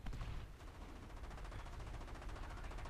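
Tank cannon and machine-gun fire in War Thunder Mobile, a dense, continuous rattle of rapid shots at low level, distant-sounding and unbroken for the whole stretch.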